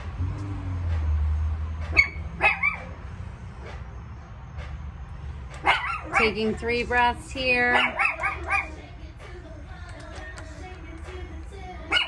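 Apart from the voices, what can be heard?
dogs barking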